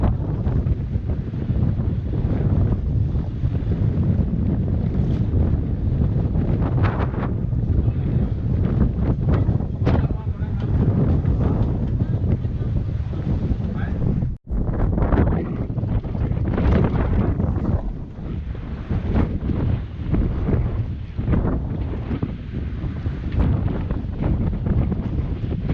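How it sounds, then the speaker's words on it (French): Strong wind of about 21 to 23 knots buffeting the microphone aboard a small sailing catamaran at sea, a loud continuous roar with gusty surges and a brief drop partway through, no voices. "Mais ça souffle, hein, il y a du vent."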